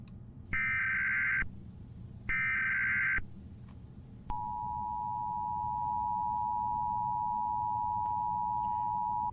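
An emergency alert broadcast: two short bursts of harsh two-tone attention signal, then a long steady single tone that holds to the end, loud and alone over a faint noisy background.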